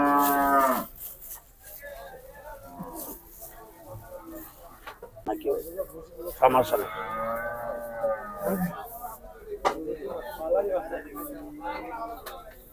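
Holstein Friesian cattle at the busy Gabtoli cattle market moo loudly and repeatedly, with long drawn-out calls up close over steady crowd chatter and people talking.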